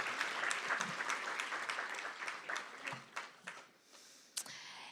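An audience at a hospital heroes awards gala breaks into applause, dense clapping that starts full and loud, then thins into scattered claps and fades toward the end.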